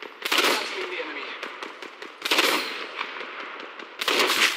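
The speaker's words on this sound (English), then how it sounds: "They're shooting at me." Enemy gunfire in the video game Apex Legends: three loud, rapid automatic bursts, each lasting about a second, spread through the clip over a steady bed of game noise.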